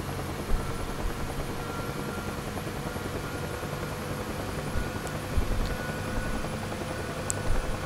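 UH-1H Huey helicopter in the DCS flight simulator, its turbine engine and rotor spinning up into a steady, loud whine and thrum that holds evenly throughout with slight swells, no talking.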